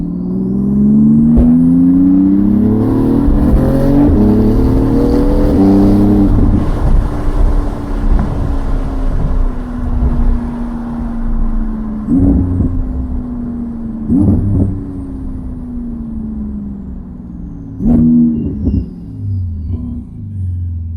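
A Porsche 911 GT2 turbo engine accelerates hard with a loud, rising roar and boost, then eases off and surges again in repeated pulls, heard up close with wind buffeting the microphone.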